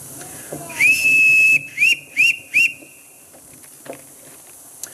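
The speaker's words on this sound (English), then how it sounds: "Everyone in this household answers to a whistle" A shrill whistle is blown to summon a household: one long sustained blast followed by three short sharp bursts, loud and close, then a few soft footsteps and faint rustling.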